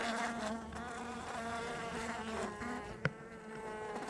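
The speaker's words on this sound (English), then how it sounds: "So now a bunch of bees are gonna come flying out" Bees buzz in a continuous, wavering drone as they fly out of an opened hive during a winter feeding, close and fairly quiet, with one sharp click partway through.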